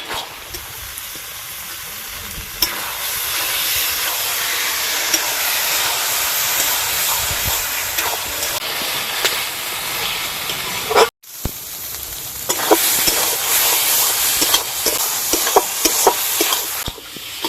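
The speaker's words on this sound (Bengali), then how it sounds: "এবার নাড়াচাড়া করে কচু ডাঁটা যে এক্সট্রা জলটা আছে সেই জলটা ভালো করে শুকিয়ে নিতে হবে।" Taro stems stirred in a hot pan with salt and sugar to cook off their extra water, giving a steady hiss and sizzle with scraping and clinking of the spoon, loud and continuous, with a brief break midway.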